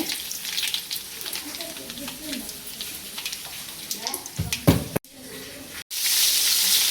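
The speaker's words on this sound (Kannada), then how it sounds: "ಸ್ವಲ್ಪ ಫ್ರೈ ಆಗ್ತಾ ಬರುವಾಗ ಬ್ಯಾಡಗಿ ಮೆಣಸು, 1 ಸ್ಪೂನಷ್ಟು ಉದ್ದಿನಬೇಳೆ, ಸ್ವಲ್ಪ ಒಂದು ಅರ್ಧ ಸ್ಪೂನಷ್ಟು ಸಾಸಿವೆ," Byadgi chillies, urad dal and mustard seeds frying in a little oil, a soft continuous sizzle with scattered pops and crackles, a couple of brief knocks, then a brighter hiss near the end.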